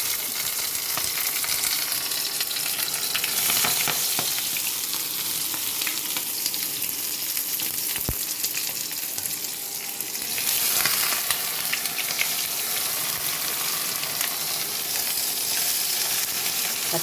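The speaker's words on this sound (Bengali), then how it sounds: "আমি এটাকে এবার গ্যাসের মধ্যে দিয়ে দিচ্ছি।" Rohu fish wrapped in gourd leaves fries in oil in a pan on a gas stove, giving a steady, loud, close sizzle that runs unbroken with no talking.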